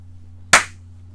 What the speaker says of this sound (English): Give us your clap.